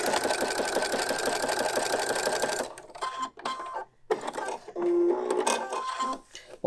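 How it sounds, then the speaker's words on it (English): Sewing machine stitching a fabric bookmark, a steady fast rattling run that stops, then shorter bursts of stitching with pauses, close up and without talk. "I like to do a couple of reverse stitches first and then"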